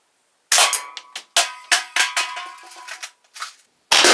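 Spring air powered gun firing at an aluminum can: a rapid series of sharp cracks and pops, about a dozen close, loud impulses over three seconds, then a pause and another burst.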